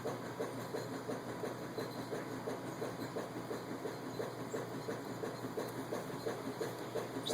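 Stick blender mixing colorant into rebatched soap, a faint, continuous motor whir with a subtle pulsing rhythm, fairly distant and without talk.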